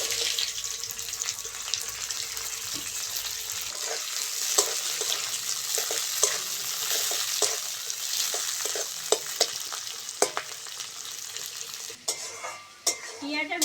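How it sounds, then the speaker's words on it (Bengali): Green peas and onion fry in oil with a constant close sizzle, broken by repeated scraping stirs and spoon knocks against the pan, a few louder clatters near the end. "পেঁয়াজ আর মটরটা একটু ভাজা হোক"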